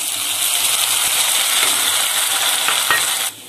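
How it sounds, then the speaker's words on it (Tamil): Corn kernels roast in oil in a home pan, producing a dense, loud sizzling hiss with faint stirring scrapes, close up, cutting off abruptly just before the end. "நம்ம வீட்லயே இத இப்ப வறுக்கலாம் இப்ப எண்ணெய் வந்து கொஞ்சம் காஞ்சிடுச்சு நம்ம இதல corn வறுத்துடலாம்"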